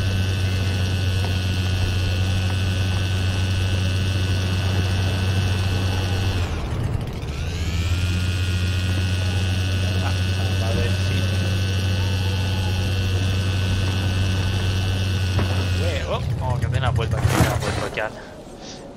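Snowmobile engine in the video game Kona, a loud steady drone that dips briefly and comes back, ending in rougher revving, under a voice speaking.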